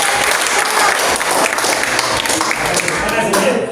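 A classroom group applauds with a dense burst of hand clapping, loud and close, blended with crowd murmur and a voice speaking over it.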